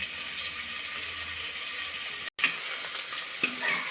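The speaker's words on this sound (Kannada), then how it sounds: "ನೋಡಿ ಫ್ರೈ ಆಗ್ತಾ ಇದೆ ಟೊಮಾಟೊ ಎಲ್ಲ ಸಾಫ್ಟ್ ಆಗ್ತಾ ಇದೆ" Tomatoes frying in oil with onion, garlic and ginger for a mutton sambar give a steady, close hiss and sizzle with a few soft stirring clicks, broken by a brief cut to silence partway through.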